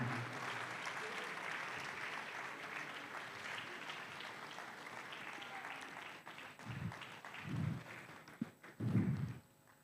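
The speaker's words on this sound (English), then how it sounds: "let's clap, let's clap, let's clap." Applause at a conference closing ceremony for award winners, broad steady clapping filling most of the stretch, then fading into a few louder thumps and scattered claps near the end.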